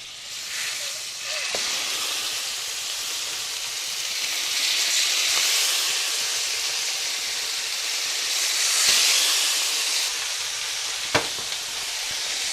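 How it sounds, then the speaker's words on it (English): Butter sizzling in a hot pan before fish is added, a broad steady hiss that swells and fades a little, with one sharp tap near the end and no talking. "drop a little butter in this pan too"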